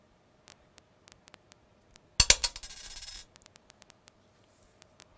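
Two coins are tossed together and land on a hard surface, giving one sharp metallic clatter and a short ringing spin that fades after about a second, set among faint scattered ticks in a quiet room.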